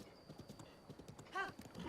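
Horse hooves clip-clop at a quiet, steady pace in the video game Zelda: Breath of the Wild, followed by a short whinnying neigh near the end, faint and without talk.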